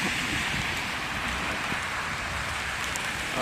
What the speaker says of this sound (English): See, it's raining and snowing.